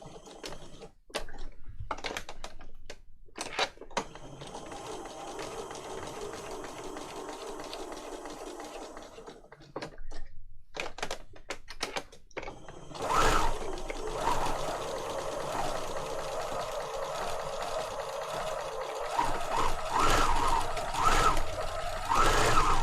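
A sewing machine stitches paper journal pages with off-white thread, first in short stop-start bursts and then in a longer steady run, heard close and alone.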